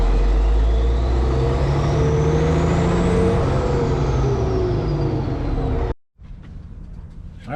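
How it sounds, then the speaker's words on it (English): A Cat C18 engine in a 657E scraper runs hard and close, its turbo bark rising into a climbing whine that falls away again. The engine cuts off abruptly and leaves a brief quiet stretch before faint noise returns. "this one, you can really hear that turbo bark"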